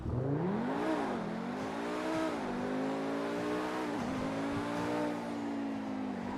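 A Lamborghini Huracán EVO Spyder in GTA 5 accelerates hard, its engine note climbing steadily through several gear changes with brief dips between shifts, loud and continuous with no talking.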